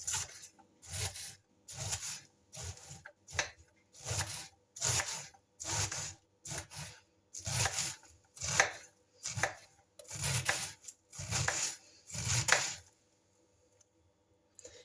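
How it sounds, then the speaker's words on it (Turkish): A knife chops iceberg lettuce rapidly and finely on a cutting board, in about a dozen quick bursts of crisp strokes, close up with no talking. "çok ince ince doğruyorum"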